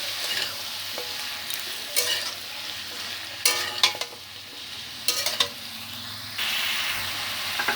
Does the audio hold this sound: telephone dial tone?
no